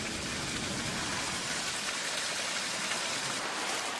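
Rain falls on a peony farm on Daikon Island as a dense, continuous hiss of drops on surfaces, steady and fairly loud throughout, with no voices.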